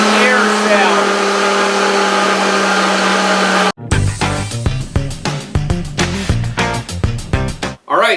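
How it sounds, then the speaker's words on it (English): A Kuvings SV500 vacuum blender malfunctions: for nearly four seconds a steady airy whoosh with a constant motor hum runs unbroken, then it cuts to a choppy string of short, loud beeps and clicks at close range, with no voices. "The Kuvings blender now is just beeping and it's making an air sound."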